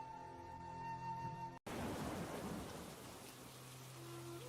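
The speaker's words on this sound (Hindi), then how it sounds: "बारिश का मौसम शुरू हो चुका था, जोरों से बारिश हो रही थी।" Heavy cartoon rain pours down in a Hindi animated story, a dense, loud, continuous downpour with rumbling thunder that resumes after a brief cut.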